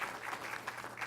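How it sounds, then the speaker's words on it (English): Sustained audience applause for a chancellor at a city law breakfast event, a dense steady patter of many hands clapping throughout, fairly close and loud, with no voices over it. "I actually think that you deserve a round of applause for all the great work that you do"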